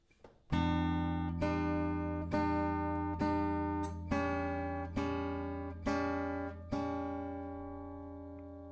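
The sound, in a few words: acoustic guitar chords played slowly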